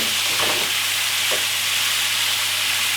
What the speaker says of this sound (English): It's all sizzling away in the pan.